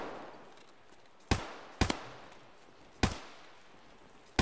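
Gunfire in the video game Escape from Tarkov, four separate sharp, loud shots spaced unevenly about a second apart, each cracking briefly over a quiet ambient background with no talking.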